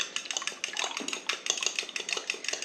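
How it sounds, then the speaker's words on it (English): Eggs whisked in a bowl for raspberry lemon zucchini bread, a fork or whisk clinking rapidly and steadily against the bowl's side, close and fairly loud, with no voices. "let's mix up these eggs"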